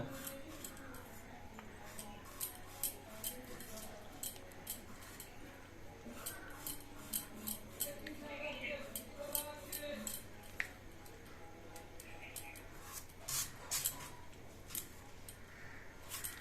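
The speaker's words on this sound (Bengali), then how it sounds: "চলুন তাহলে আমরা এই মিষ্টি আলুটা কেটে নিই" A knife slicing through a sweet potato gives quiet, sharp clicks and taps in an irregular rhythm, with soft talk in the background.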